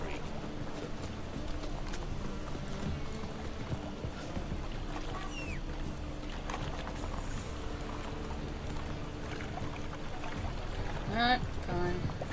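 Geralt's horse Roach in The Witcher 3, steady clip-clop hoofbeats at a walking pace running continuously under ambient game sound, with people talking at times.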